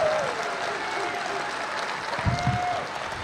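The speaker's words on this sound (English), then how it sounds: "I'd just like to give a quick round of applause to Tony Konachek" A brief round of applause from a keynote audience, steady clapping at moderate volume with a faint tone in the background.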